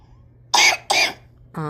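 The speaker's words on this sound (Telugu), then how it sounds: "ఎట్లా వస్తుంది దగ్గు?" A child gives two sharp, close coughs in quick succession, followed by a brief voiced sound.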